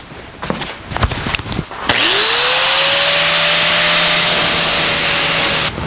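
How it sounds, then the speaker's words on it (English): Angle grinder trimming sheet metal on a fabricated trunk floor for a 1949 Chevrolet gasser: after a few light knocks, a loud, steady high whine starts and holds for about four seconds, then cuts off. "We'll make this trim cut with a grinder."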